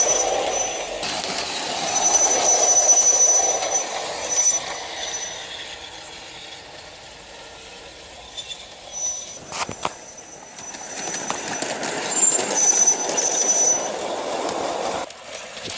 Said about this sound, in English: The other place where it judders a bit is as it comes over the point.